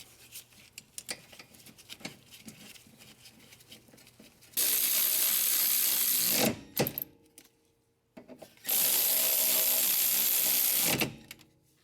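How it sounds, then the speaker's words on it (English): Light metallic clicks and handling of a brake caliper bolt on a Honda CR-V's rear brake lead into two loud, steady mechanical whirring bursts of a couple of seconds each, separated by a brief pause, heard up close. "So we're gonna install the bolt for the brake caliper."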